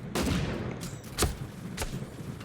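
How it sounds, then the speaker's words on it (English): Explosive sniper rifle shots in the video game Super Mecha Champions, several sharp blasts spaced irregularly over a rumbling, busy battle background of distant gunfire. "I love the explosive sniper rifle quite a bit"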